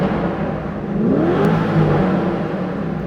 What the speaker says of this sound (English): listen to the sound. Car set in Corsa. V8 is here.